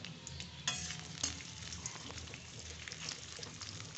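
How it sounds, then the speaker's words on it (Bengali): Chopped onions and green chillies sizzle in hot oil in a kadai, a steady broadband frying hiss with a few louder crackles and spatters near the start, continuous and close with no voices. "তেলটা একটু গরম হলে আমি কেটে রাখা পেঁয়াজ আর কাঁচা লঙ্কাগুলো দিয়ে দিলাম"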